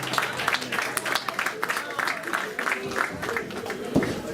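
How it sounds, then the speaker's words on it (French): An audience at a French charity fundraising event applauds in a busy wash of claps, with voices and cheers mixed in over the clapping. "Et applaudissez-vous,"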